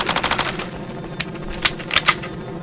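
A gun in S.T.A.L.K.E.R.: Shadow of Chernobyl fires at snorks, with a quick burst of several rapid shots followed by a few single, spaced cracks, close and sharp.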